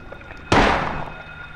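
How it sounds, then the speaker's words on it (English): A single pistol shot in the Silent Hill video game, one sharp, loud crack with a short fading tail, standing alone against a quiet background. "I'm gonna shoot it with a pistol."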